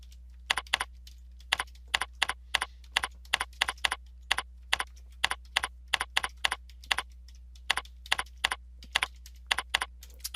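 Clicky computer keyboard keys tapped in quick bursts, close and crisp, with a steady low hum beneath and short pauses between runs of keystrokes.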